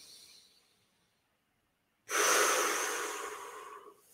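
A deep breath drawn in during an evening yoga routine: a faint exhale fades to silence, then a long, close, breathy inhale starts abruptly and tapers off over about two seconds.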